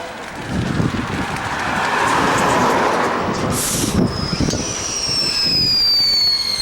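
Fireworks crackle and pop continuously in a dense loud barrage at a Fourth of July celebration, with a few whistling rockets streaking upward near the end.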